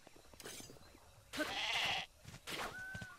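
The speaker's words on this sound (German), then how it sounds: "und hier haben wir die Schäfchen." Sheep in The Legend of Zelda: Breath of the Wild bleat in a few short, distinct calls over quiet game ambience, with faint rustling between them.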